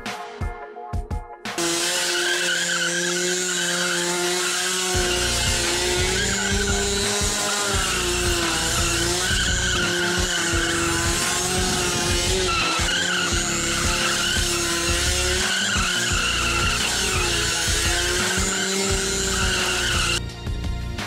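A 50cc motorcycle drifts with a sustained, wavering tyre skid. The squeal rides over a buzzing, high-revving small engine and continues loud and unbroken for about twenty seconds before cutting off.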